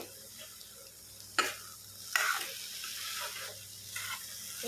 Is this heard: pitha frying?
yes